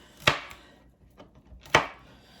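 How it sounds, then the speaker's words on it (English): A knife trimming the ends off green beans on a cutting board: two crisp, close chops about a second and a half apart, with a faint tap between them. "I need to trim the ends off of the green beans."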